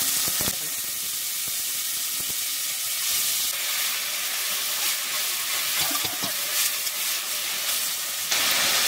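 Onions fry in a pan with another ingredient added, making a broad hiss and sizzle that holds for the whole stretch, with a few light knocks and stirring sounds, close up and unvoiced.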